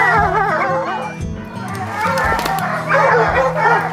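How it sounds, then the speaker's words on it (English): Bear hunting hounds tied up in the West Virginia woods bark, yip and howl in a loud overlapping chorus that carries on steadily, with some human voices mixed in. "The dogs are up here tied up."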